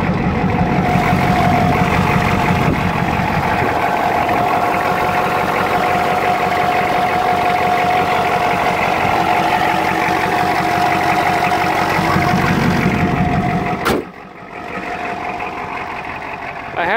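A diesel truck's 6.9 IDI engine idles steadily with a rough, knocking clatter and a constant hum, then briefly dips and recovers near the end.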